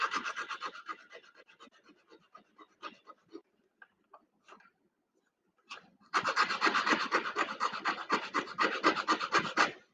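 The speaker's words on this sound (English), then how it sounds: "I'm going to keep sanding." Sandpaper rubbing back and forth on a small wooden truss piece for a corner section model, faint scattered strokes at first, then a loud, steady, continuous rasping run of close sanding.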